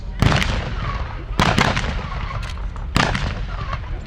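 Blank-firing rifles and guns crack in repeated bursts at a WW2 battle reenactment at Tank Fest, with sharp shots recurring over constant outdoor noise and a commentator talking.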